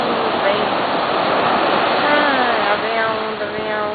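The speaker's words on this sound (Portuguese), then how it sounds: "Ah, vem a onda, vem a onda." Ocean waves breaking on Copacabana beach at night form a steady, loud rush of surf throughout, with a voice talking faintly over the water.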